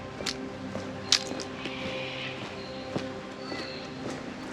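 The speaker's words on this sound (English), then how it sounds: "I see another drain to walk through" Footsteps squelching through a wet creek drain on Scrubby Creek in Logan City, a few soft irregular steps with occasional sharper splashy impacts, echoing lightly in the enclosed space.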